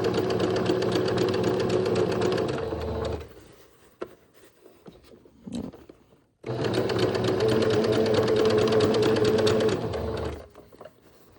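Sewing machine running a straight stitch while gathering fabric with elastic, two steady sustained bursts of fast mechanical whirring and needle chatter, each about three to four seconds, separated by a quiet pause with faint handling clicks.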